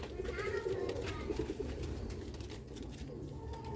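Old-breed Aseel Ali-wale pigeons from Sialkot coo softly in a quiet loft, with repeated low, burbling calls and faint voices in the background.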